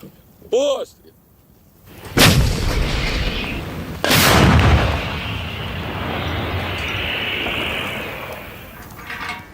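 Self-propelled artillery gun of a Ukrainian brigade firing: two heavy, loud blasts about two seconds apart, each followed by a long rolling rumble that fades slowly, preceded by a brief tonal sound.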